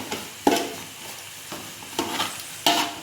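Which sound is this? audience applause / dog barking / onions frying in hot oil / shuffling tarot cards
onions frying in hot oil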